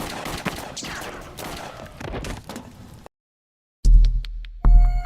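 Gunfire in a film scene: a burst of rapid repeated shots for about three seconds, then a sudden silence broken by a few sharp loud bangs.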